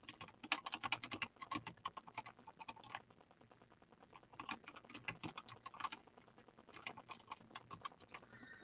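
Fingers type a comment on a computer keyboard in a quiet room, producing a fast, irregular run of light key clicks with brief pauses. The clicks are close but soft, and no one speaks.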